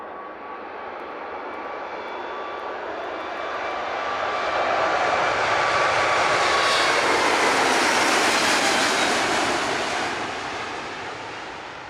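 An Air France heavy jet takes off from runway 25 at SJO, its engine roar swelling steadily from a distant rumble to a loud, broad peak around the middle before easing off again, with no voices.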